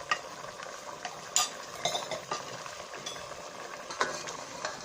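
A spoon stirs ground garam masala into a simmering black pepper meat curry in a pot, giving soft scraping and clinking under a faint bubbling sizzle, with no voices.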